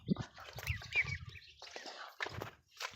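An Australorp chick peeps close by in short, high chirps scattered through a few seconds, with soft rustling and a low murmur in the background.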